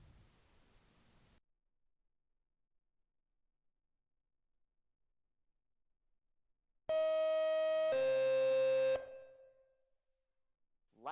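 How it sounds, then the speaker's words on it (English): Fire dispatch tones from a firefighting video game: after a brief hiss and silence, two loud sustained electronic tones play back to back, the second pitched lower, then fade out. "That is what the dispatch tones would sound like."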